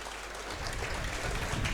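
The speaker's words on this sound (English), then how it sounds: "Willie Gibson giving a bit of applause for that" Scattered clapping from the crowd at a football testimonial match in October 2024, a fairly loud, continuous wash of noise that swells slightly partway through.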